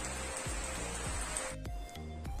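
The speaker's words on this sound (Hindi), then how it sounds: "एकदम से बारिश होने लगी है देख रहे हैं ना कितनी जोर से बारिश हो रही है" Heavy rain starts all at once and pours hard, a dense steady hiss of drops drumming on surfaces close by, with scattered louder knocks and no talking.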